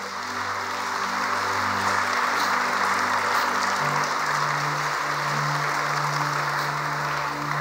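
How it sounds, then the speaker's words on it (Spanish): A church congregation applauding in a steady, even wash of clapping that holds without break, over a low sustained musical hum that shifts pitch partway through. "¿Cuántos le dan un aplauso a Dios?"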